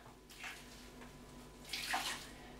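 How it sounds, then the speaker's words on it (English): A sponge is rinsed out in water while tile is being cleaned, giving quiet splashing and sloshing in two short bursts, the second louder. "we're going to keep rinsing out our sponge to clean it off"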